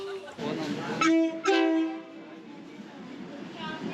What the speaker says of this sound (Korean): ขณะนี้ได้เวลาขบวนรถออกจากสถานี